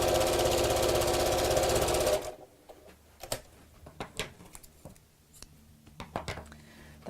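Sewing machine running close to the edge of a scalloped flap clutch bag piece for basting stitches, a loud fast steady whir for about two seconds, then stopping into scattered soft handling taps.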